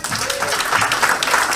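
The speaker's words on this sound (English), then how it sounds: "Can we give him another clap, please?" Audience applause fills a lecture hall at a talk on Black feminism, dense steady clapping from a crowd that carries at even loudness through the whole stretch without pause.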